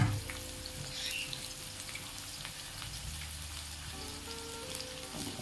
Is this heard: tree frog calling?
no